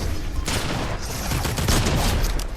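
Sustained volley of shotgun and automatic gunfire from a Fortnite Chapter 6 squad fight, loud and dense throughout with overlapping blasts and no talking.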